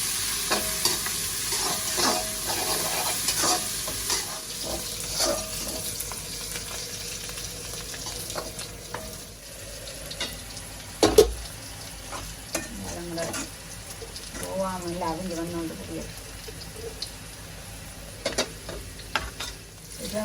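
Onion, cinnamon and chili sauté in a pan with a constant hiss of frying, punctuated by frequent spatula scrapes and knocks on the pan, including one loud bang midway, with no one talking.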